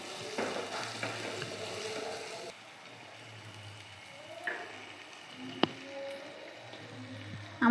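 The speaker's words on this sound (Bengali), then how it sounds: "আদা রসুন আর পেঁয়াজগুলোকে একটু ভালো করে সময় দিয়ে কষিয়ে নেব" Onion and ginger garlic paste being sautéed in a pan, a soft low sizzle with a few spoon scrapes and one sharp clink of metal.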